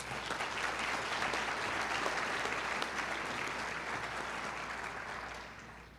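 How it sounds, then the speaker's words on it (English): Banquet audience at a 4-H awards of excellence dinner applauds the award winners, producing a dense, even stretch of clapping at moderate volume that tapers off toward the end. "Let's give them a round of applause."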